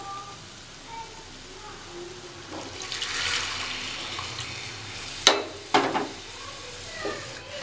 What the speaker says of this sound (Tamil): இனி கிரேவிக்கு தேவையான அளவு தண்ணி ஊற்றிக்கலாம்.